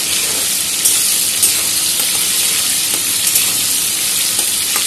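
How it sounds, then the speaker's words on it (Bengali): Tomatoes fry in a pan for a spicy aloo paneer curry, giving a steady, close sizzle and hiss that runs the whole time, with a few soft stirring taps and no talking. "টমেটোটা মোটামুটি আমার ভাজা হয়ে গেছে"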